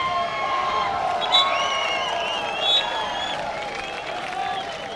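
A crowd cheers and whoops at a distance inside an aquatic centre at an under-16 girls' water polo final, a steady roar of many voices with scattered high shouts rising and falling.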